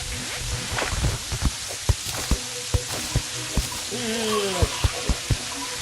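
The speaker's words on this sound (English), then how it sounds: "Still hear the rain." Rain falls in the video game Terraria as a soft, continuous patter, with regular sharp clicking taps repeating throughout and a short voice-like sound partway through.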